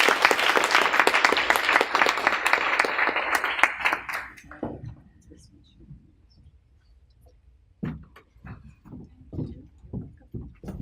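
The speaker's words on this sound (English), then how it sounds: "let's give a round of applause for Dr." Audience applause at the Canadian Women in STEM Conference 2017 for Dr. Emily Agard, a dense, loud round of clapping that fades out after about four seconds, followed by sparser scattered claps and faint movement.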